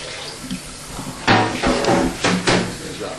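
Cold water runs and splashes into a container for soaking gelatin leaves in a kitchen, preceded by a light knock, with close clattering and pouring bursts.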